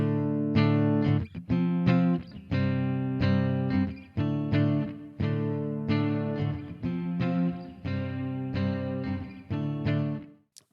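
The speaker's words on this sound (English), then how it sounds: "We're going to drag in some reverb to this rhythm guitar here" Strummed rhythm guitar chords in a steady pattern, each one ringing out with a noticeable reverb tail that fills the gaps between strokes.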